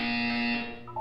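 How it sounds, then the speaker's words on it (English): A Portal 2 buzzer sounds as a single loud, sustained electronic tone that holds for most of a second and then cuts off, heard alone without speech. "You will hear a buzzer."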